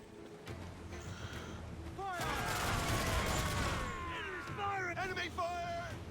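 Naval cannon fire in Assassin's Creed IV: Black Flag, a rumbling fusillade of distant booms that builds into a loud, dense barrage amid game music and ship sounds, with voices talking over it.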